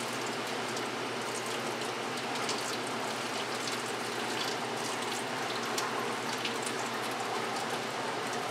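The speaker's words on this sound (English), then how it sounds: "It's going to continue to spin for another minute or two" A vintage Maytag washing machine spinning: a steady, dense wash of noise with a watery, sloshing hiss, constant and moderately loud.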